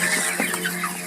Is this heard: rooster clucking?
yes